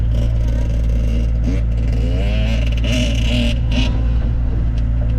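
A dirt bike engine runs steadily at a low, droning idle with a brief rise in revs, close and loud, with no talking.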